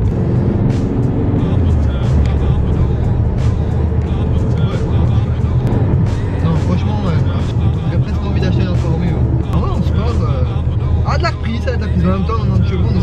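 Steady low engine drone and rolling road noise heard from inside a moving 90-horsepower Alfa Romeo MiTo, with people talking over it throughout.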